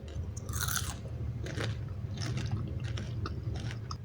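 Crunchy bites and chewing of crispy, savory fried shrimp, several loud close crackles with steady mastication between them, heard alone with no talking.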